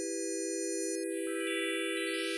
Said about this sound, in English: you basically just start adding in these little notes. This is additive synthesis.